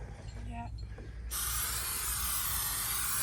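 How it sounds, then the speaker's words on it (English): Aircraft paint stripper sprays from an aerosol can onto a 1960 Percival Hellcat go-kart, a sudden loud, steady hiss that starts partway in and continues, after a few faint clicks and rattles. "Spray it on thick."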